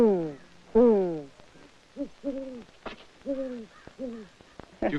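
A wild owl hoots in a series of short, paired calls, spaced through the moment at moderate distance, mixed with a few higher human-like hoots of a woman mimicking and answering the bird.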